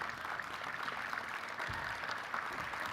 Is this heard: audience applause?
yes